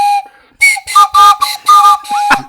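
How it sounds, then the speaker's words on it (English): A hand-held toy train whistle blown in short bursts, about five loud, breathy tooting blasts in an uneven rhythm, close to the listener, after a brief held tone. "I've got a train whistle here."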